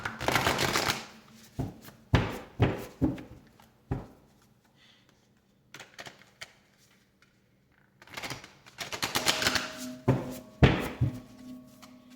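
Playing cards are riffled and shuffled close up in several bursts of crisp fluttering, separated by quiet pauses.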